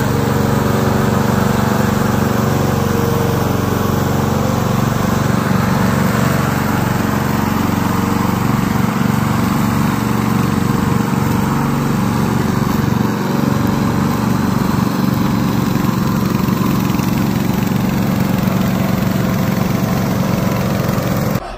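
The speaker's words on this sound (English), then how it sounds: "Today I'm going to introduce our remote control lawnmower." A remote-controlled lawn mower's small engine runs steadily and loudly throughout, a constant droning hum with a slight throb, no voices.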